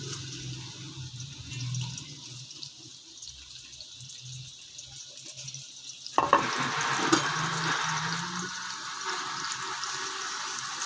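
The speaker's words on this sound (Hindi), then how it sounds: "सबसे पहले मैं इसमें प्याज डालूंगी और इसको हम लाइट सा ब्राउन करेंगे" Onions for mutton yakhni pulao dropped into hot oil in a pot with turmeric, a soft background hiss at first, then a sudden loud sizzle that stays steady with stirring scrapes for the rest.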